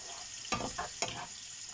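Butter sizzles in a hot pan with prawns under a steady frying hiss, broken by three or four quick stirring scrapes close by.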